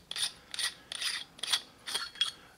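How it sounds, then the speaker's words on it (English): The threaded cap of a T238 tracer unit is twisted off, giving six quick, close, gritty ratcheting scrapes in an even rhythm, clear and alone without talk. "To recharge it, you simply thread this off."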